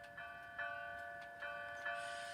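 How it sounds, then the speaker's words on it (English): A small bell rings softly in repeated light strikes, about four clear chimes with a lingering tone, faint and unaccompanied. "The wind blew gently, and the bell chimed sweetly."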